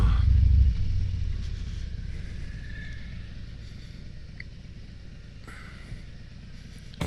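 A 2023 Harley-Davidson Road King Special with a 114 engine, idling then pulling away in a deep steady low rumble, loudest at the start and settling into a continuous drone, close to the listener.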